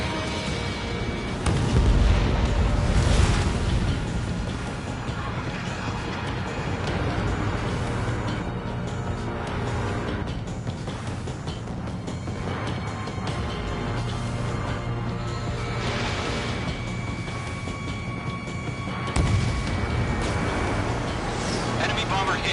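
Missile explosions and heavy combat booms in the flight game Ace Combat 7, rumbling blasts layered over engine roar and music, with radio voices talking throughout.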